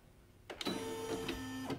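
An embroidery machine in the hoop begins stitching out die and placement lines for an in-the-hoop 5x7 book project, a short, close mechanical whir with a few rhythmic pulses.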